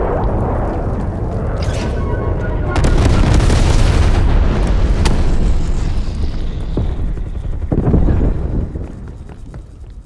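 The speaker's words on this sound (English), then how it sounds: "napalm strike inbound" Napalm strike explosions in Call of Duty Black Ops Cold War, heavy booming blasts rolling into a sustained roaring fire rush, a second surge near the end, loud and close before tailing off.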